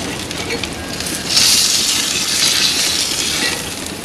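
Food sizzles and crackles on a Monument Denali 605Pro griddle, a steady hissing fry with a faint clink partway through and no voices.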